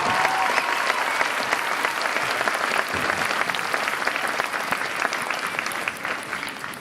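Sustained clapping from a large audience at a school district arts festival, dense and even throughout before easing slightly at the end, with no talk over it.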